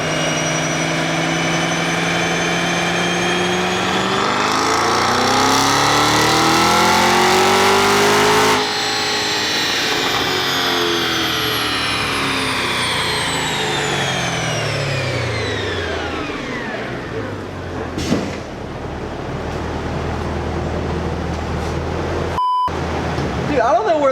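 Cadillac CT5-V Blackwing with a ported supercharger blower accelerating hard, its engine note climbing loud and close through rising revs, then dropping back to a lower drone, with people talking over it.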